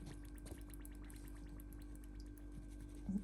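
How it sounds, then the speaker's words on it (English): Soft, steady sizzling and bubbling of melted coconut oil in a pan, with faint crackles and a low continuous hum throughout. "You can hear that bubbling."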